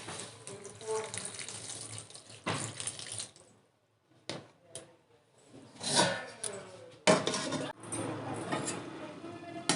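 Water splashes and pours into a cooking pot of Malabar spinach stems, in uneven gushes broken by a quiet pause midway, then resuming with a few clattering knocks.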